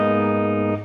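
Clean tone from a Gibson SG electric guitar run through a volume pedal: a single sustained chord rings out loud and steady, with rich even harmonics and slight shimmer, then fades near the end.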